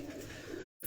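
Pigeons give a brief, soft cooing close by, then it cuts off for a moment before resuming.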